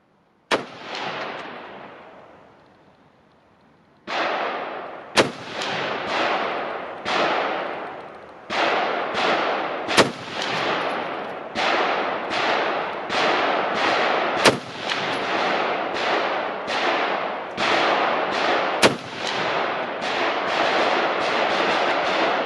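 Rifle shots from a Ruger Mini 14 firing Hornady ELD 75-grain ammunition at an outdoor range ring out as a long series of loud, sharp cracks in quick, uneven succession after a short pause, each with a decaying tail.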